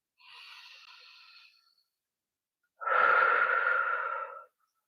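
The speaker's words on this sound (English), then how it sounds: "take slow, deep breaths" Two slow, deep breaths in a quiet room, a softer inhale followed after a pause by a louder, fuller exhale, close and alone with no other sound.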